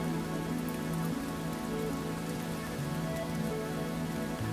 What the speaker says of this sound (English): the rain reaches the ground, the grass, the sidewalks,